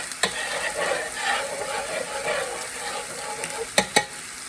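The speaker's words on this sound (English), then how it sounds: "I'm going to oil the griddle where I want to put these bun slices." Bun slices sizzle on an oiled griddle for a Cubano, a steady soft frying hiss with a couple of sharp clicks near the end, no voices.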